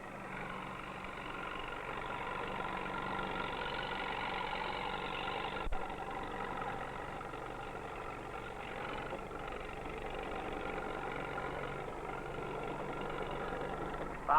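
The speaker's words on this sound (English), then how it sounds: "Dad's driving the combine up the hill." Combine harvester engine drones steadily as it climbs a hill on a 1950s farm, a constant low mechanical hum at moderate distance with no voices.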